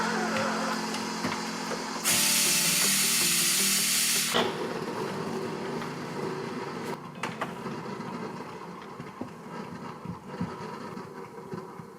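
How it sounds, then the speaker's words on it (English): A Breville Infuser espresso machine steams milk with a loud, steady hiss that cuts off after about two seconds, followed by quieter machine hum and faint clicks. "we're gonna steam some milk"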